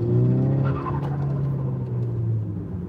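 A car engine droning and revving at close range, its pitch rising and holding steady for a few seconds.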